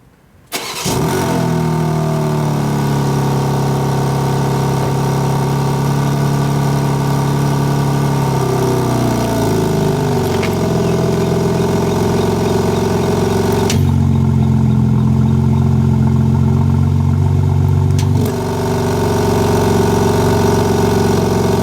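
A BMW G82 M4 engine starts and settles into a deep, steady exhaust idle, with a couple of brief shifts in pitch; loud and close throughout, no voices.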